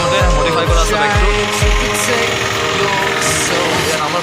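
Engine of a modified Hero Honda Discover motorbike, a steady close running note with a few low revving bursts at the start.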